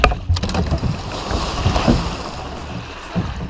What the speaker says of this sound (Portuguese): Três homens pescavam em um barco a motor em um pequeno rio na Tanzânia.